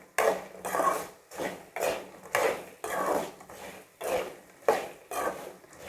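A spoon stirs crushed garlic into frying potatoes in a pan. Regular scraping strokes come about twice a second in a steady rhythm, close and fairly loud.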